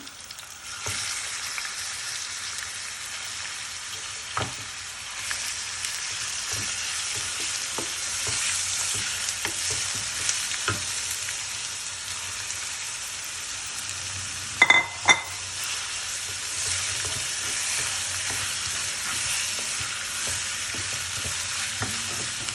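Prawns coated in masala sizzle and fry steadily in a pan for prawn biryani, with the scrape and clatter of stirring scattered throughout and a couple of sharper knocks midway. No voices.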